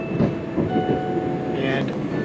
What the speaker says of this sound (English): I hopped on a random train that is completely empty